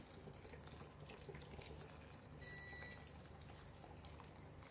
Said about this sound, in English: Add on more hot water until most of them are submerged.